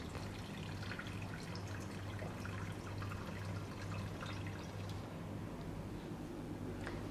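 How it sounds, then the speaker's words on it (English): Liquid trickles and drips while a fungal spore suspension and a little water are poured into a large beaker, a faint steady splashing over low background hum. "pour the suspension into a large beaker. Add a little water"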